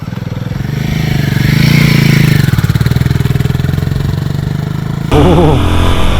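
A Royal Enfield Himalayan 450 motorcycle rides through twisting roads, its engine humming steadily up close, dipping then rising sharply in a clear revving surge near the end.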